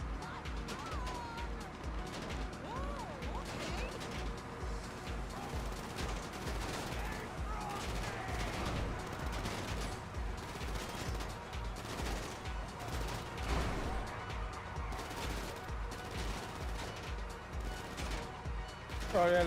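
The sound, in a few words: gunfire shooting at the player in a video game (GTA)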